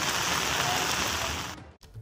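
Heavy unseasonal rain pours as a loud, dense, continuous hiss, then cuts out abruptly near the end.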